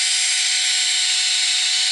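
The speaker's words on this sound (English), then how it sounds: "I'll take my foot off the drill so you don't have any noise." Electric nail drill cutting back acrylic gel nails, a steady high-pitched whirring hiss close up, constant and unbroken with no talk.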